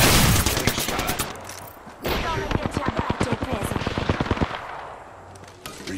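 Rapid bursts of automatic gunfire in the Apex Legends battle royale game, loud and close, with dense rattling volleys broken by brief pauses and a sharper stretch of fire in the middle.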